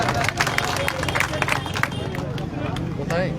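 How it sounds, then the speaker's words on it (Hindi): Loud applause from an audience at a Sindhi community gathering for a memorial chowk unveiling in Bhadra, dense steady clapping mixed with crowd babble and a few claps standing out near the front. "जोरदार तालियों के साथ अभिनंदन"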